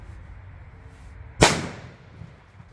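A Cobra P1 firecracker goes off close by with one sharp, loud bang that rings out and decays over about a second, following a quiet outdoor lead-in.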